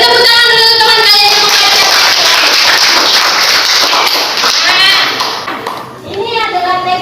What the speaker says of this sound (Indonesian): Beri tepuk tangan dulu teman kalian.